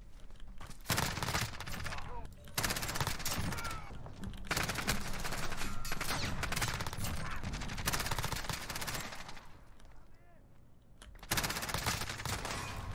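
Sustained bursts of automatic gunfire from the video game Modern Warfare, with an MP7 in use, loud and dense with brief pauses between rapid volleys and a faint voice underneath.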